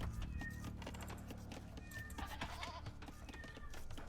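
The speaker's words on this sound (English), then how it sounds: "My cat is meowing loudly in the back." Cat meowing loudly in the background, a few bleating, drawn-out cries sounding faint and distant beneath other steady background sound.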